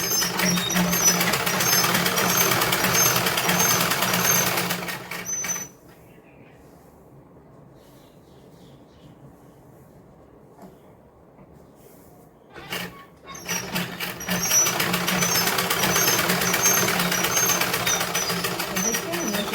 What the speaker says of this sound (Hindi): हमें इस तरह से इस पे सिलाई चलानी है। अच्छे से दाब कर सिलाई चलाएं।